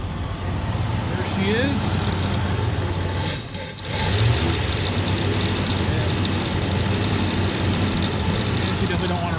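A 5.0 V8 with a Microsquirt fuel injection swap runs steadily and loudly throughout, a brief dip near the middle before it settles into a rough, continuous idle, with a voice speaking briefly over it.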